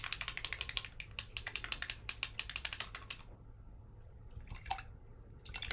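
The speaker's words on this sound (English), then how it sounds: "I'm going to wash my brush" A paintbrush is washed in a water cup after acrylic painting, giving a quick run of small clicking taps and swishes near at hand, then a pause and a few faint later splashes.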